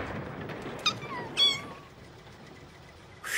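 A mother cat and her kittens meow faintly in a few short cries spread over a few seconds, with a low hiss of background noise underneath.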